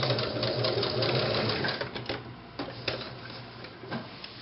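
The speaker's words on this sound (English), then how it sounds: "Okay, so we sewed our casing for our elastic." A home sewing machine runs steadily while stitching an elastic casing on boutique ruffle pants, a close, continuous mechanical whir with fine rapid ticking, then several short stop-and-start bursts toward the end.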